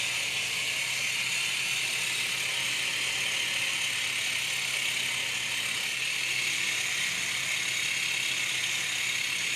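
A jigsaw-style massage tool whirs on someone's muscles, giving a constant high-pitched buzzing hiss that holds steady and close for the whole stretch, with no talking.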